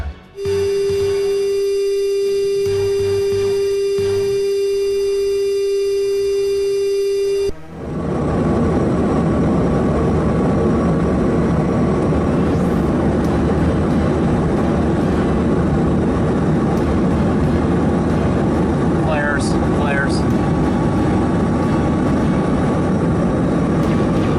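Military fighter jet during an aerial interception over the Indo-Pacific region: a steady tone and electronic hum give way to a loud, continuous roaring engine drone with faint beeping, no voices.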